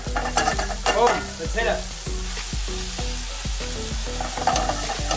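Vegan bolognese sauce fries in a hot pan with a steady, close sizzle and the scrape of stirring. Music plays underneath, and a voice speaks briefly at the start.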